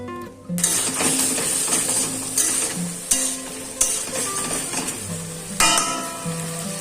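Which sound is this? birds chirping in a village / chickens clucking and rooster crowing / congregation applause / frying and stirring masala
frying and stirring masala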